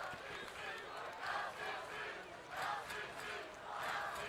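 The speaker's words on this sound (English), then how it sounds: "As you hear the LCC crowd get into the game a little bit." A football crowd at an LCC Mavericks game chants and cheers in rhythmic waves, rising and falling several times at a moderate distance.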